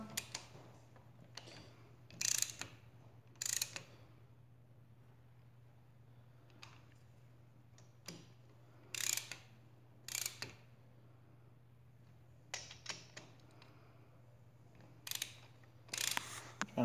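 A ratchet tightens bolts on a Kawasaki Z125 Pro during a 143cc big bore kit install, giving short bursts of clicking strokes spaced a second or more apart, close and fairly quiet over a steady low hum.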